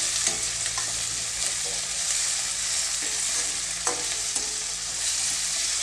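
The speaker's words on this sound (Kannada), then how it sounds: "ಇದನ್ನು ಒಂದೆರಡು ನಿಮಿಷ ಚೆನ್ನಾಗಿ ಕುದಿಸ್ಕೊಳ್ಳಿ" Field beans with turmeric and tamarind boil hard in a pan, giving a steady, dense bubbling sizzle that fills the whole stretch, with a few faint clicks and no talk.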